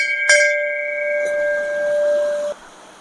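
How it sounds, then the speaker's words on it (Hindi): A single bright strike on a metal temple bell in Kandaghat, Himachal Pradesh, its clear ringing tone sustaining for about two seconds before being abruptly damped. "तो अब ये घंटी हम बजा लेते हैं"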